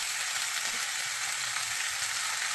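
Tomato, garlic and dried chili paste sizzles hard as it hits frying chicken in a pressure cooker, a dense, steady hiss filling the clip without letup.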